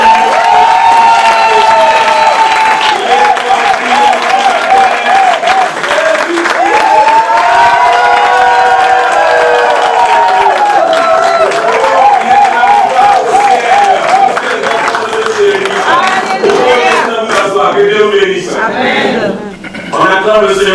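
A church congregation at a consecration service acclaiming and cheering, a dense, loud, continuous wash of crowd voices, shouts and clapping with music-like tones running through it.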